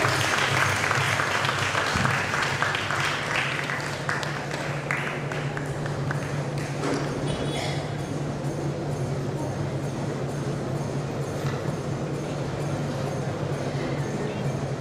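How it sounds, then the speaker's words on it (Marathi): An audience at a prize distribution ceremony claps loudly and continuously for about fifteen seconds, a dense wash of many hands with a steady hum underneath. "जोरदार टाळ्या वाजवूया."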